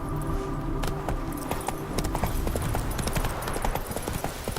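Roach the horse galloping in The Witcher 3, a steady rapid clip-clop of hooves with faint jangling tack under continuous game ambience and music.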